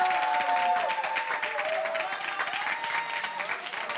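Audience applause greeting a presenter, sustained clapping from the crowd with some cheering and a few voices over it, gradually thinning toward the end.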